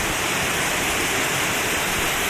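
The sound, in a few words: waterfall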